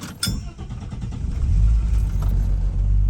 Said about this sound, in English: I usually have to try twice on the ignition to actually get her started and going